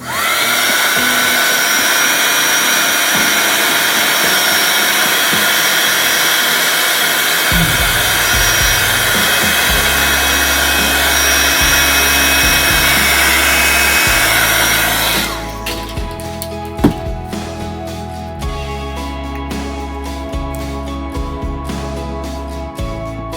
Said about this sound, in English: Use your heat gun.